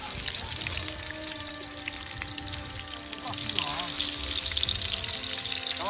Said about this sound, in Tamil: இப்போ வெங்காயம் போடுறோம்.